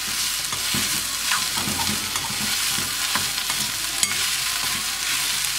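Cooked, shredded chicken fries in a pan while being stirred, a steady close sizzle broken by repeated scraping and stirring strokes, with no speech.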